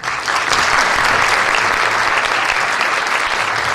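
An audience at a Miss Washington County and Miss Western Maryland pageant bursts into loud, sustained clapping that holds steady and close for a few seconds with no talk.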